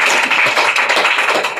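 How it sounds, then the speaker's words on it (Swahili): A church congregation applauds as a woman comes forward, a loud sustained patter of many hands clapping together at close range. "Tumpigie makofi dada anapokuja."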